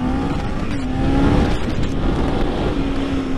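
A Kawasaki 300 motorcycle engine running loud and close, a steady buzzing drone that swells slightly as it revs, heard alone without voices.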